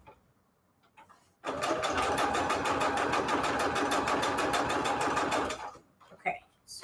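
A sewing machine stitching a signature into a patchwork junk journal, with fast even needle clatter running steadily for about four seconds, close and loud, with quiet handling sounds before and after.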